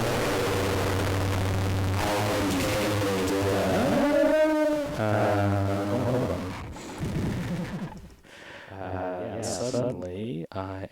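A SOMA Lyra-8 synthesizer runs through self-modulating delay and distortion, giving loud, dense, buzzing drones with wobbling harmonic tones that swell and shift, then break into choppier distorted bursts near the end.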